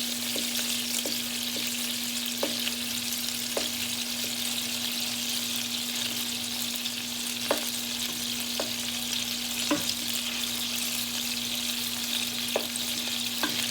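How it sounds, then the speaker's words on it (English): Meatballs sizzle steadily in a pan under a constant low hum, with scattered sharp clicks and taps as they are turned over; no speech. "If you want, you could easily flip these over one more time"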